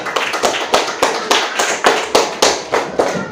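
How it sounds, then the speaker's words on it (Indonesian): Schoolchildren in a classroom clap for a clever classmate, a brisk series of about a dozen distinct, close claps in a steady rhythm. "tepuk tangan buat teman kalian yang pintar"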